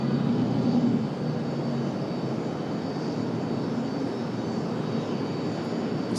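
A JetBlue Airbus A220 jet roars steadily on its landing approach, a broad continuous engine rumble at moderate distance with no break or rise.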